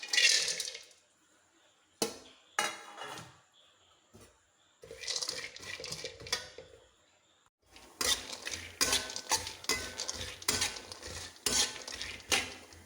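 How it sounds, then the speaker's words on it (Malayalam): Grated coconut roasting in ghee, heard as a soft sizzle with repeated scraping and clinking of a spoon stirring in the pan, growing busier and more continuous toward the end. "നെയ്ക്കകത്ത് തേങ്ങ വറുത്തിടാം"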